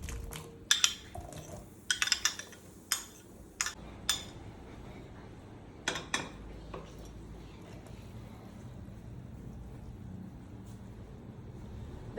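Green apples being dropped into a fruit punch with cordial ice cubes, giving a cluster of sharp clinks and knocks against glass and ice in the first few seconds, then fading to quiet with only faint handling sounds.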